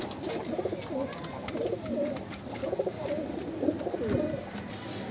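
Pigeons cooing close by, repeated soft throaty coos in overlapping bursts over a low background hum.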